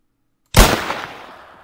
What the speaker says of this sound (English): we want to use the gunshot.